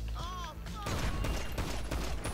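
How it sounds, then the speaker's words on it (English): Heavy pistol gunfire in the video game GTA 5: a dense, continuous burst of loud shots and impacts that follows a brief whistling tone, all heard at close range. "It's the heavy pistol."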